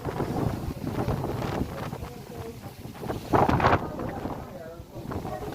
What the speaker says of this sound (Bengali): আমি ভিডিও করতে পারতেছি না, এত বাতাস। এই দেখো কি বাতাস।